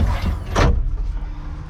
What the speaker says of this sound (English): The door latch is good.